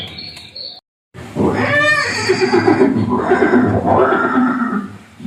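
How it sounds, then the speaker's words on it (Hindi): A horse lets out a loud, drawn-out whinny close by, followed by snorting and further neighing over background noise. "ये दृश्य महाराणा प्रताप और सुविख्यात स्वामी भक्त घोड़े चेतक के अंतिम मिलन का है"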